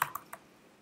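A few quick keystrokes tapped on a computer keyboard while entering a date, three light clicks close together, quiet and alone.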